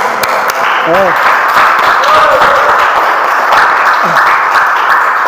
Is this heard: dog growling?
no